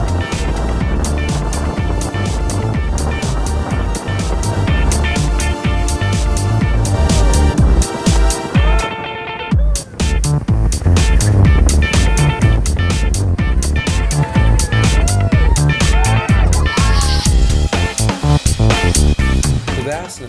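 Dune buggy tearing across steep sand dunes in Peru, its engine roaring loud and close throughout with rushing wind buffeting, a brief dip near the middle, no voices.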